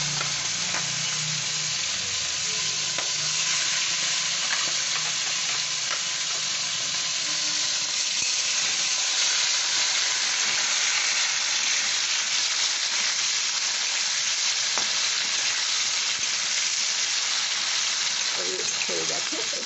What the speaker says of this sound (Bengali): এবার আমি চিংড়িগুলো একটু সাঁতলে নেব